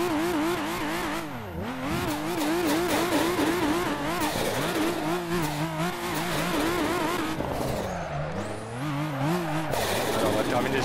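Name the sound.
car engine while drifting in video game Assetto Corsa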